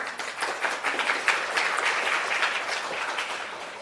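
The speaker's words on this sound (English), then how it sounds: "A round of applause for Claudia." Attendees at an academic conference session clap to welcome a presenter, a moderate, somewhat sparse round of applause heard from across the room that swells briefly and then tapers off gently.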